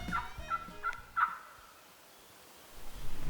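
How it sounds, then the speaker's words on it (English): A wild turkey gobbles out in rugged South Carolina terrain, a quick rattling burst of several notes heard at a distance and fairly faint, followed by quiet outdoor ambience. "We just heard him gobble again. Definitely was a gobble."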